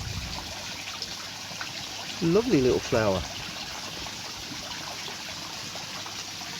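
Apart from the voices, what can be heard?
small waterfall stream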